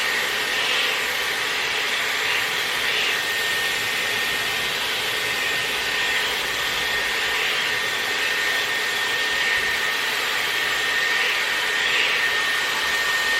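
A Dyson Airwrap hair styler blows air in a continuous, even whoosh that holds steady for the whole stretch, close and alone with no talking.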